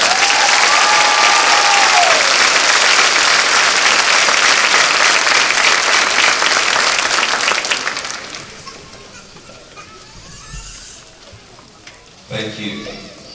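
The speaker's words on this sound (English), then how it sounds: "Please give her a round of applause." Loud, dense applause from a graduation crowd fills the first eight seconds, then thins out and fades to scattered murmurs and small movements.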